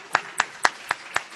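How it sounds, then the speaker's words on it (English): A university panel audience gives a round of applause, heard as five crisp, evenly spaced hand claps at a steady rhythm over a quiet room background. "Let's go ahead and give them a round of applause"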